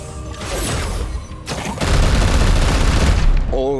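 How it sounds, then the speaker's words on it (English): Rapid gunfire bursts in the game Chaos Gate - Daemonhunters, a loud dense volley of shots that swells midway into heavy booming fire, with a voice briefly heard at the end. "Opening fire."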